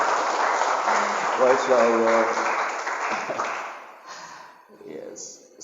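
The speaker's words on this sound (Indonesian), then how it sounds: "Tepuk tangan untuk kita semua hari ini Bapak." An audience claps at an anti-bullying motivational seminar at an Islamic high school, with dense sustained applause under a speaking voice that tapers off near the end.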